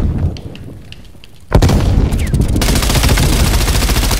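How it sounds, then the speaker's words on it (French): Grenade blast in the video game Call of Duty Cold War: a sudden loud explosion cuts through quieter scattered gunfire, then a sustained roar of rapid shots and rumble follows. "Je lance une grenade."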